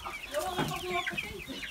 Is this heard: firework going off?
no